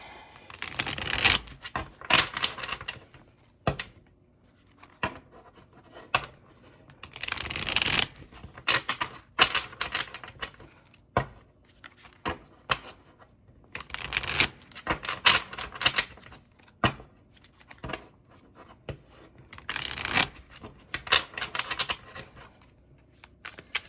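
A deck of tarot cards being shuffled by hand, repeated riffling bursts of crisp flapping and clicking, close up, separated by brief quieter pauses.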